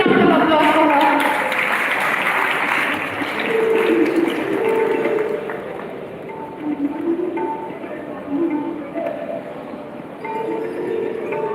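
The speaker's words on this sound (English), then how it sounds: "Can you please have a huge round of applause for her?" Audience applause for a student delegate at the Yuva Manthan G20 school event at APS Clement Town, Dehradun, a steady dense clapping that runs throughout with tonal music playing over it.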